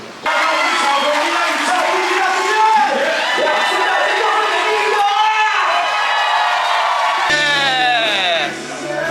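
Loud crowd cheering and shouting fill the hall at a Legacy music venue concert, with whoops and voices running continuously for about seven seconds before a clearer voice and tones cut in near the end.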